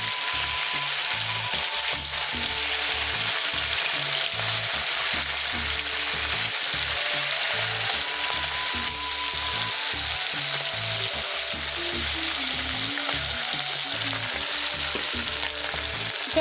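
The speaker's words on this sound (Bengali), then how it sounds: "চলো মাছটা এইখানটায় ভাজা হোক" Fish fries in a salted wok, a loud, continuous oily sizzle and crackle that stays steady throughout with no talking.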